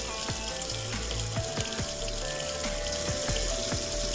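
Running tap water as soapy hands are rinsed in a sink, a steady splashing stream close up, with bright plinking musical tones playing over it and no talking.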